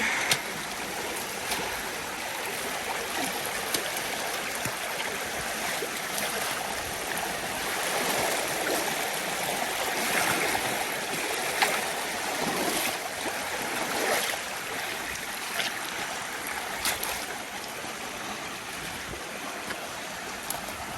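Snowmelt stream on the Pacific Crest Trail rushing steadily and loudly over rocks, a continuous close wash of flowing water with no voices.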